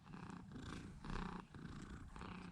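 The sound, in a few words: cat purring on owner's shoulder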